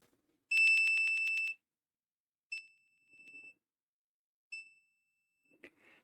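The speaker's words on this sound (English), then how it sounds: "When it reaches the set value, it will beep 3 times." Electronic beeps from a heater reaching its set temperature, one long tone followed by two short beeps, clean and isolated in a quiet room.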